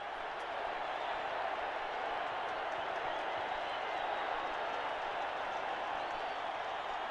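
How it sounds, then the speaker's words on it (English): A rugby stadium crowd roars and applauds after a Springbok try against the New Zealand Cavaliers, a dense, steady wall of cheering with a commentator's voice beneath it. "some lovely work there by Carl du Plessis, and the crowd go mad"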